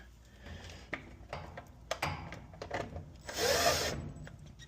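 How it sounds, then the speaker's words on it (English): A power drill drives screws back into a Whirlpool appliance panel during a control board replacement, giving short irregular bursts of buzzing and clicks, ending in a louder, longer whir. "Screw that back in."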